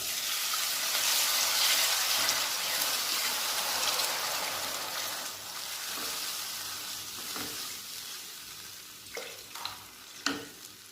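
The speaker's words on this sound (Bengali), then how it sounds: "এবার আমি এর মধ্যে জল দিয়ে দেবো।" Water hits a hot pan of chicken kofta curry with chopped and whole green chilies, setting off a loud, hissing sizzle that slowly settles into quieter bubbling and spitting, with a few sharp taps of a utensil near the end.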